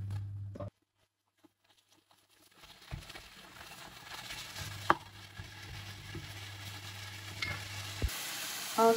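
Carrots and turnips go into a gently simmering meatball tajine, with a clatter and thump as they drop in, then a low, steady bubbling sizzle and occasional stirring knocks.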